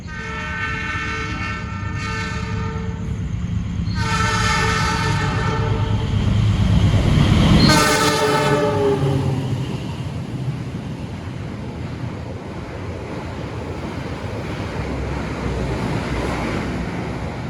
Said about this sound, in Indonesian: KA Turangga sudah berjalan langsung stasiun Klaten menyusul KA Kahuripan ya